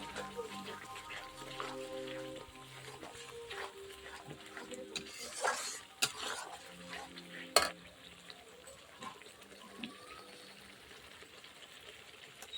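Tomato paste and chili being fried and stirred in a pan give off a steady low sizzle, with utensil scrapes and a few sharp clinks throughout. Faint background voices and a low hum sit underneath.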